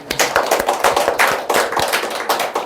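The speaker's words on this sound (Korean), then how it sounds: "너무 하나님께 우리 영광의 박수합니다." A church congregation claps during a Sunday service, producing a brisk, fairly loud run of overlapping hand claps in an uneven rhythm that continues throughout without talking.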